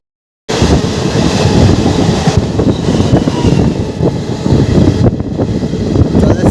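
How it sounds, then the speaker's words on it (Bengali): A Medinipur local train from Howrah pulls out of Balichak station with a loud, continuous rumble and rattle of wheels and carriages close by. The sound starts abruptly after a brief silence and stays steady throughout, with some wind buffeting. "হাওড়া থেকে ছেড়ে আসা মেদিনীপুর লোকাল রয়েছে বালিচক স্টেশন ছাড়লো, তার সাথে ওভারটেক হবে আর কিছুক্ষণ পরে।"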